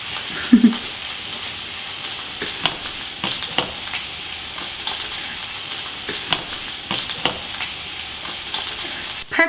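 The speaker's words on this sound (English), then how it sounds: "the fish has been cooking for 5 minutes, skin side down, and now you can see Pegs is flipping it for the last 5 minutes" A salmon fillet sears in a hot pan, loud steady sizzling and frying close up, with a few scrapes and knocks as the fish is turned over.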